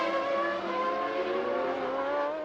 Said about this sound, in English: Schumacher came storming out from his pit stop.